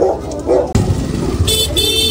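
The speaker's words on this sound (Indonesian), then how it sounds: "ngapain klakson bang?" A car horn honks in a busy street, with two short toots followed by a sharp louder blast and a sustained honk over nearby traffic and motorcycle noise.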